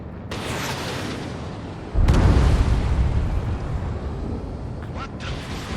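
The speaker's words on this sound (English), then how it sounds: "A huge explosion just went off underwater." A huge underwater explosion in the Ace Combat 7 video game lands as a sudden deep boom, then a long rumbling roar that slowly fades, with voices talking over it.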